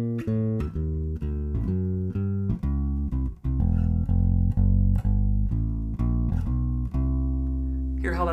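Electric bass using both pickups for a fat, upright-like tone, playing a steady walking line of evenly spaced plucked notes, deep and close, alone without talk.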